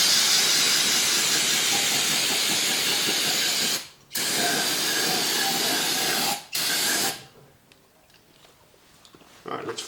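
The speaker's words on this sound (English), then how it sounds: "After the WD-40, I'm going to use some brake parts cleaner" Aerosol brake parts cleaner sprayed onto Jeep 4.0L engine parts, a loud close hiss in long bursts with two brief breaks, then trailing off into quieter handling noises.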